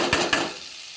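Bean palya frying in a pan with ground peanut and coconut powder, a close, steady sizzle with two brief scraping stirs near the start that then settles into a softer hiss.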